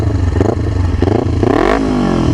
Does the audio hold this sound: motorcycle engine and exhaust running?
yes